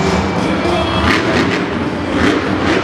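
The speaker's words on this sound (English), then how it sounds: "I'm hearing a lot of girls cheering" A stadium crowd at a Monster Jam monster truck show cheers continuously, a dense, loud roar with scattered thuds and swells throughout.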